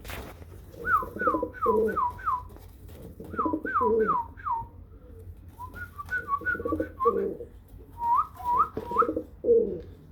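Repeated short rising whistles aimed at pigeons in quick bursts, several groups with pauses between, over soft fluttering and cooing in the background.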